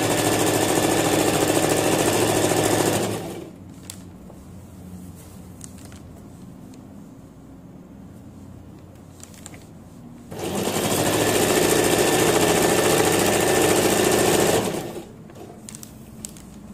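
A sewing machine stitching the lengthened hem of a robe (jubah): two steady, loud runs of rapid stitching, each about four seconds long, separated by a quieter stretch of faint handling noise.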